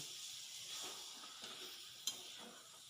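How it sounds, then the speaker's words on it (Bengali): Lemon juice being stirred into a homemade pickle, a soft continuous scraping and sizzling stir with one sharp clink partway through, steady and close, no talking. "লেবু রস দিয়ে আবার ভালো করে নেড়ে নিচ্ছি"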